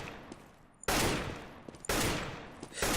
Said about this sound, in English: I'm gonna just go pick up a deagle